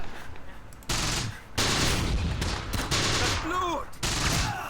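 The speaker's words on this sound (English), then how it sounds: "And that was actually a rifle grenade" A rifle grenade blast and bursts of gunfire in the WWII tactical game Close Combat: The Bloody First. Several loud, close explosive bursts and volleys of shots follow one another over a steady battle rumble.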